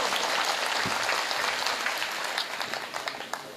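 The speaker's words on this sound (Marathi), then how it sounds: "मला परत टाळ्या वाजवून सांगा करणार म्हणून." A crowd at an Independence Day rally claps in a steady, dense round of applause that thins into scattered individual claps toward the end.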